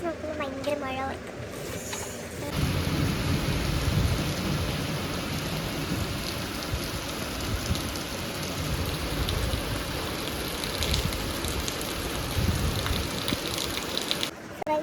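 Heavy rain pours in a thunderstorm, a dense, steady hiss of drops that starts after a brief quieter moment and continues loud and unbroken to the end.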